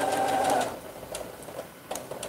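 Sewing machine stitching a zippered cushion: a close, whirring burst of rapid mechanical stitching for about half a second, then quieter clicks and handling sounds, with no talking.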